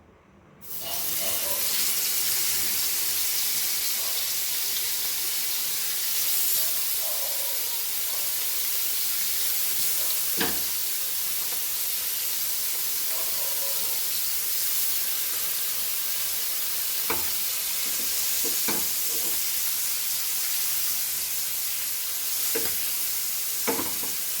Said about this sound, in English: Now we'll fry it. So we'll fry this now. The oil is hot.